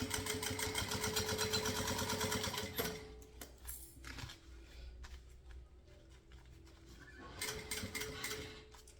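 A domestic sewing machine runs in a quick, rhythmic burst while stitching synthetic material for a crossbody bag, then halts with fabric handling clicks before a second short stitching run starts near the end.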